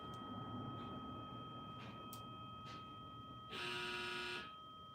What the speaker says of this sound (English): I heard the buzzer.